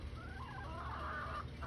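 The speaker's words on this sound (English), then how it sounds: "I got a rooster and one hen." Rooster of a black Sumatra and jungle fowl cross clucking softly in a low, continuous murmur, close by, with no talk over it.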